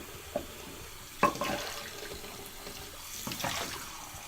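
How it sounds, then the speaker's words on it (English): Hot water runs from a tap into the bottom of a DIY shaving scuttle, a soft steady splashing stream with a few brief knocks and gurgles, close and quiet. "Fill the bottom one with hot water"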